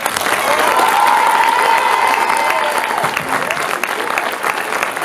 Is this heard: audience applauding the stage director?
yes